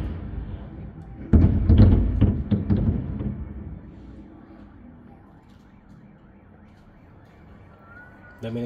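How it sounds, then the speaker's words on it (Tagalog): Several car alarms go off during a South Korean fireworks show, a burst of wailing, pulsing tones starting loud around two seconds in, then trailing off into a quieter whoop that lingers in the background. "Dami nag-alarm ah."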